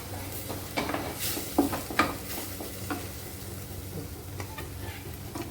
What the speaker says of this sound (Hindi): अब मसाले पका लेते हैं।